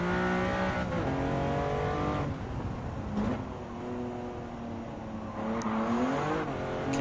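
A Lamborghini Miura racing on a track in Gran Turismo 7 during a historic sports car event, its engine droning steadily and rising and falling in pitch through gear changes across several laps of continuous revving.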